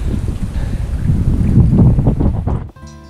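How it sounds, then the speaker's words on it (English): Strong wind blows hard across a microphone outdoors, a loud continuous rumble and buffeting that dies away abruptly near the end. "the wind and the weather hadn't cooperated at all and I could barely be heard in this initial part"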